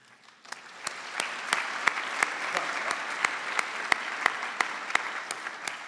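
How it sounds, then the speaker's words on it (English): Audience clapping at a university college of optometry white coat ceremony, building from quiet into a steady, sustained round of applause from a seated crowd, with sharper individual claps standing out throughout. "We're going to be clapping a lot today."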